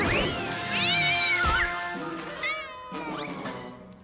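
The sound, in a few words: cat meowing in cartoon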